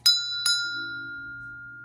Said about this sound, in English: he also rang the chakra bell, the root chakra